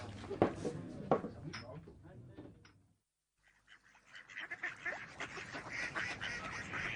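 A duck quacks in an audio comedy scene, a few loud nasal calls near the start, then a brief silence before more fowl-like honks and chatter mixed with background voices and noise.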